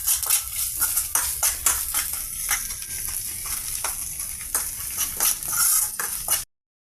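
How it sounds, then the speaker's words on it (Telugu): Egg pieces frying in oil with red chilli powder and salt in a pan, close and steady crackling sizzle with frequent metallic scrapes and clinks of a utensil stirring, cutting off abruptly at the end. "ఈ విధంగా అన్ని ఆయిల్తో ఫ్రై అవుతున్నాయండి."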